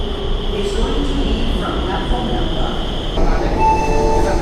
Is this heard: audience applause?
no